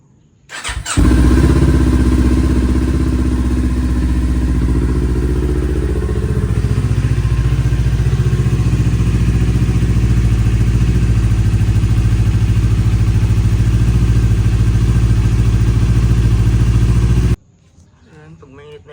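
A Kawasaki Z400 motorcycle engine starts and idles steadily to warm up during an oil change, loud and close, running evenly for about sixteen seconds before cutting off abruptly.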